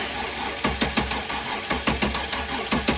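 A Mercedes OM642 3.0 V6 diesel engine, suffering a leaking injector, cranks with a rhythmic pulsing starter churn repeating in loud regular bursts close to the microphone.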